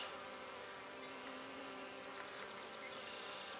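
Honey bees hum and buzz steadily and close up while a beginner's hive is opened for inspection, a dense continuous drone with no voices over it.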